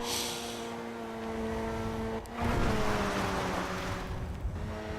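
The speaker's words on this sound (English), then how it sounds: "He is pushing that car as hard as he can push it." A race car in GTA Online driven hard at a Pegasus Park championship round, its engine droning at high revs, then dropping and climbing again through a gear change or lift.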